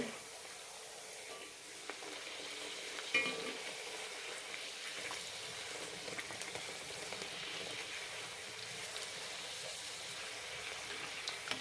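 Semolina puris fry in hot oil with a faint, continuous bubbling sizzle. Occasional soft clicks and stirring noises come through at low volume.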